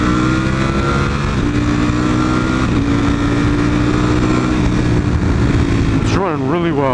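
A motorcycle engine idles and revs steadily and loudly up close, a continuous throaty drone that holds for several seconds before a brief rising rev at the end.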